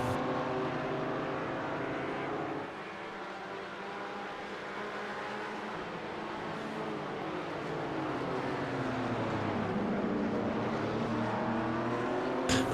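Sim race cars, among them a Porsche, run at Sebring in an iRacing endurance event, a steady droning engine note with gear-shift pitch sweeps and other cars audible, no talking.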